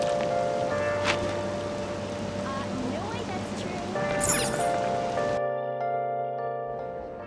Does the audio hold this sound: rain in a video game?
yes